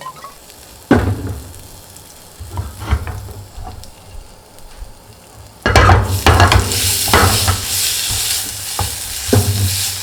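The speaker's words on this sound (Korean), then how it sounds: "자, 이제 볶아줄게요." Dried fleabane greens stir-fried in a pan, a loud close sizzle that swells as the greens are tossed, with repeated scraping strokes of a utensil across the pan and no talking.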